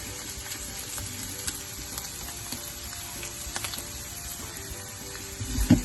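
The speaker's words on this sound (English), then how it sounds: "then you just want to saute this for a few seconds" Garlic and spices sautéing in a hot pan give a steady, close sizzle with soft stirring scrapes throughout and a louder clatter right at the end.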